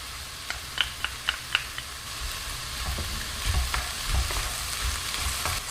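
Mushrooms, bacon strips and garlic fry in a pan with a steady close sizzle, opening with a handful of sharp utensil clicks before settling into continuous crackling.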